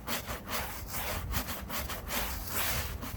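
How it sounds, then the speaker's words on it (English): A stiff brush scrubbing the back of a car tire, rhythmic back-and-forth strokes close up, loud and steady with no talk. "So I'll go ahead and scrub the back of the tire"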